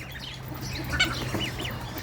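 Several ducks of many breeds and other fowl quacking and clucking in a busy pen, overlapping calls at moderate distance over a steady low hum.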